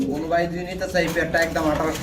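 A pigeon coos in repeated soft, throaty phrases close by at a pigeon market, with a voice speaking alongside.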